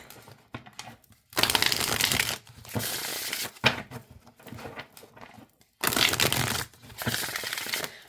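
A new Faery Wheel tarot deck shuffled by hand, close by: several bursts of crisp, riffling card noise, each lasting a second or more, separated by brief quiet gaps, with no speech.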